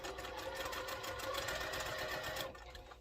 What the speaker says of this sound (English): So I'm just going to run those through and chain piece those through.